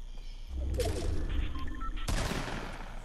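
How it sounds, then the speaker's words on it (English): Gunfire in the video game Fortnite, rapid bursts of shots crackling in a busy volley with a sharp new burst partway through, loud over background game sounds. "Whoa, somebody's shooting."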